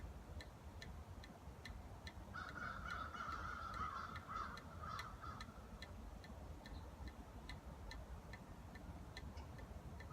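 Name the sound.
crows cawing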